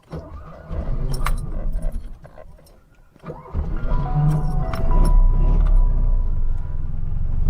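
A Polski Fiat 126p car, with keys clinking in the ignition, a brief pause, then the small engine cranking and catching into a loud, steady idle rumble close by.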